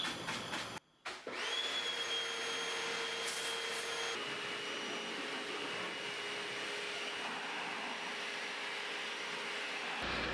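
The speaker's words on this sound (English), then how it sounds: "I'll be using the pressure cleaner." A pressure washer sprays the wheel arch of a 2008 Mitsubishi Inspira/Lancer, a steady loud hiss and motor drone after a brief stutter at the start, running continuously with no voices.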